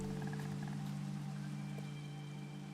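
Steady rain falls in a Minecraft swamp or rainforest biome at night, a dense constant hiss with soft tonal game music layered over it, even and unbroken throughout.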